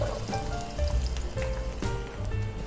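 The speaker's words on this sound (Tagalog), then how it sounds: "Tapos, igisa na natin yung ating onion." Onion sautés in a little oil in a pan, a close, steady sizzle with soft popping crackles throughout, no voices.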